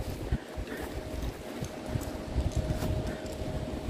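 Strong gusts buffet the microphone outdoors at a castle graveyard, with low rumbling thumps and a constant roar that rises and falls through the stretch.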